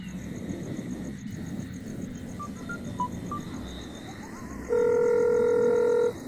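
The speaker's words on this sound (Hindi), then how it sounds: "रुक मैं उसे फोन करता हूँ।" A phone call is placed: a few quick dialing beeps, then a steady ringback tone that comes in loud and sustained near the end, over faint background noise and insect-like chirps.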